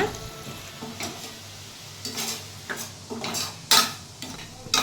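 A paste of ground tomato and shallots sautés in a pan, giving a steady close sizzle broken by repeated scraping strokes of a spoon, with a few sharper metal clinks toward the end.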